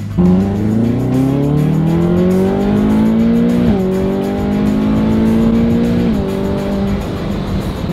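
A car accelerating hard, its engine note climbing steadily through the gears with a brief dip at each shift, loud and close from inside the cabin, with no talking.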